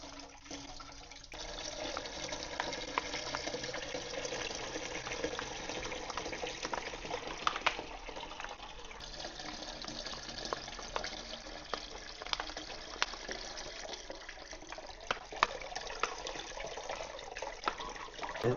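Steady rushing water fills a Nash Solutions filter cleaner holding a covered filter basket, a continuous even splash with no talk over it.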